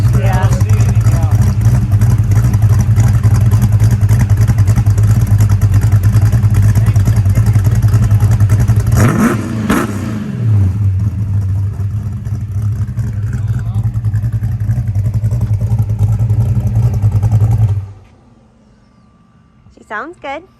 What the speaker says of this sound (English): You can see us when we revved it.